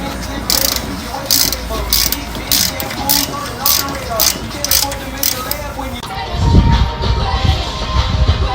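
A ratchet clicks in quick, repeated bursts while a T40 rotor screw is backed out on a Ford Explorer front brake, loud and close, with a heavier clunk near the end.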